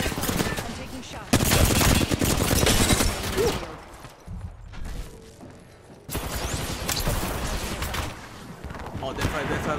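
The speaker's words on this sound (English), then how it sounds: "I'm taking shots." Gunfire in a shooter video game, dense bursts of rapid shots with a brief lull in the middle before firing resumes, loud and close.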